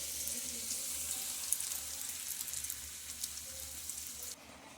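Luchi fry in hot oil with a soft, steady sizzle and scattered crackles and pops, faint and close, cutting off abruptly near the end.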